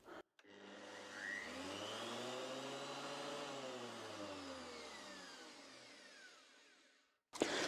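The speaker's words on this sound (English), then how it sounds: "the cutter head is rotating under that guard, no cutters in yet, but it sounds balanced" Thickness planer spinning its newly fitted helical cutter head with no cutters installed, a steady whirring hum that swells from spin-up, holds evenly, then winds down before a brief knock at the end.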